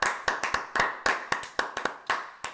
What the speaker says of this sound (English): we're going to go ahead and clap it